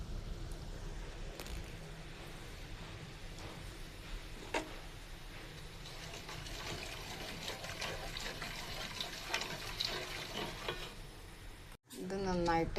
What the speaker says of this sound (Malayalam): വെള്ളം കൂടെ ചേർത്തിട്ട് ഒന്ന് ഉരുക്കിയെടുക്കുക.